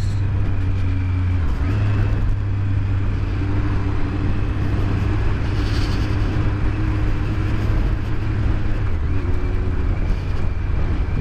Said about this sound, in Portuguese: Descendo 300 caminhão aqui